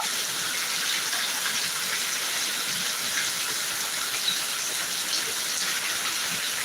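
A constant downpour of heavy rain in Thiruvananthapuram, Kerala, a thick unbroken rush of water with no one speaking.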